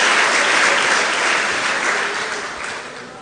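A church congregation claps together in a dense, loud burst of applause that slowly tapers off toward the end.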